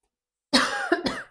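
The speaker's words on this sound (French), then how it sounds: "Je vais faire que tousser." A woman coughs in two or three quick harsh bursts after a moment of silence, close and fairly loud.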